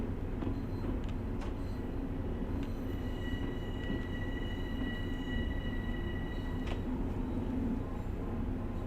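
A Long Island Rail Road train in the Train Sim World video game rolls slowly over a junction, a steady rumbling drone of wheels on track with faint squealing tones and occasional clicks throughout.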